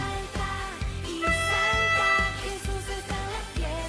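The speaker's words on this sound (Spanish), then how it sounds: "Es la trompeta" A bright brass melody with a steady pulse of short and held notes over a low accompaniment, no talking.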